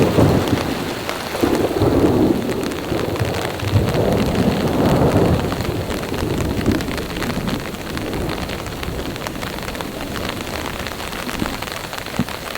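A violent thunderstorm with heavy rain at a solo campsite in Colorado: dense rain drums steadily on a surface while low rolling thunder rumbles through, loud and continuous.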